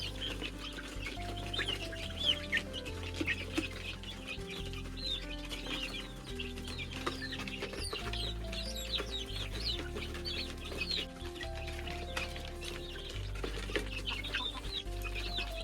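Chickens on a Kokrajhar pig farm cluck and squawk in a busy flock while scrambling for scattered grain feed, with wings flapping now and then; steady, close, and with no talk.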